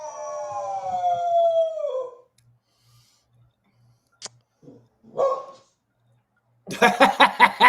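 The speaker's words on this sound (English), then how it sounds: "The dogs are howling." Hound dogs howl in long wavering drawn-out tones, then fall quiet apart from a few faint snorts and barks before a burst of clamour at the end.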